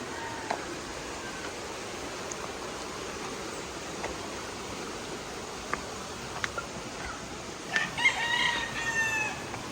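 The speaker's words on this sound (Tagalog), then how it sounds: "Siguro may mga manok." Quiet outdoor ambience with scattered distant clucks, then a rooster crows briefly near the end.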